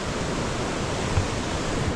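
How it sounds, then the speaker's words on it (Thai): A scenic stream flowing beside a river crossing on a trip in southern Laos, giving a steady, dense rush of water that stays loud and even throughout with no voices. "มีลำธารสวยงามนะครับตรงนี้"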